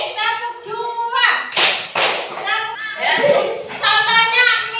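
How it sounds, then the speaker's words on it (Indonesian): A rhythmic hand-clapping exercise led by a teacher: sharp claps in a patterned sequence of single, double and quick half-beat claps, interleaved with sung or chanted voices of children and an adult. "tepuk 2, tepuk 3, tepuk setengah, tepuk setengah, tepuk setengah, tepuk 2"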